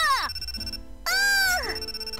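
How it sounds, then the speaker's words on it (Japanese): A phone ringtone in a visual novel video game plays a bright, melodic electronic tune in repeated phrases, pausing briefly before resuming, with no talk over it. "It's a call from a client."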